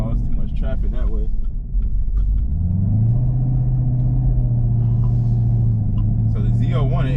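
A Chevrolet Camaro ZL1 rumbles through a slow U-turn, a deep steady engine drone that swells and holds after a short pause, with someone talking over it at the start and end.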